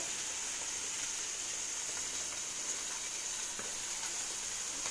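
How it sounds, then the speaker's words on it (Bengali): Small chuno fish frying in a pan, a steady, faint, hissing sizzle that continues evenly with no other sounds over it. "এই যে চুনো মাছ ভাজা হচ্ছে"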